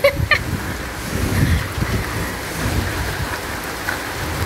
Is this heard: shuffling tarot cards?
no